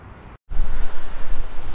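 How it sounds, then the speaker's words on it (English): Strong gusty wind buffeting the microphone, loud low rumble throughout after a brief dropout near the start. "it's pretty windy out"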